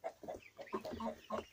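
Young chicks cluck and peep softly in short, rapid bursts close by while eating carrot for the first time.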